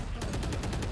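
Rapid burst of Shorty shotgun fire in Valorant, about eight sharp evenly spaced shots in quick succession, loud and close over a constant background rumble.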